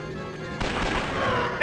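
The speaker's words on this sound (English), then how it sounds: "Now we're gonna give ourselves a little bit of laser here." Starfighter laser fire in a Star Wars video game, a loud burst of rapid blasts starting abruptly partway through and carrying on to the end over a steady engine-like drone.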